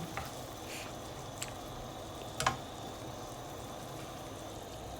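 Corned beef sautéing in a pan with a splash of water gives a steady low sizzle and crackle, with a few sharp scrapes or taps of a utensil standing out near the start and middle.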